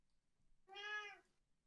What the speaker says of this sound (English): That's all I hear is the cat.